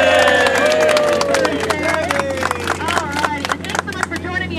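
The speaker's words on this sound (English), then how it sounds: "I want a round of applause for the birthday boy" Passengers on a Jungle Cruise boat clap for a birthday boy; scattered claps mix with cheering and chattering voices over a steady low engine hum.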